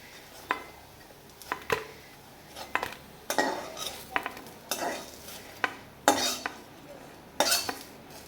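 Fried lentil fritters being lifted out of a pan, with a series of sharp metal spatula clinks and scrapes against the pan at irregular intervals over a soft oil sizzle; close and clear, no talk.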